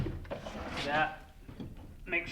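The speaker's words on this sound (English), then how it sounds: "These are Blum high-end soft close drawer guides." A cabinet drawer slides on Blum high-end soft-close drawer guides, giving a smooth gliding rumble with light clicks while someone talks over it.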